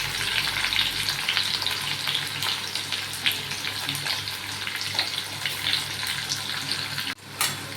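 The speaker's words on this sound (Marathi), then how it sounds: "कांदा, लसूण आणि मोहरी आणि जिरं टाकलेलं आहे. आता मस्तपैकी आपण परतून घेऊया चांगली." Onion, garlic, mustard seeds and cumin fry in hot oil for a tempering, a steady, close, loud sizzle with crackling throughout and stirring scrapes, ending in a brief clatter near the close.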